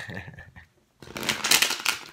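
Tarot cards being shuffled by hand: a brief soft rustle, a short pause, then a dense burst of crisp riffling and card slaps, close and fairly loud, with no talking.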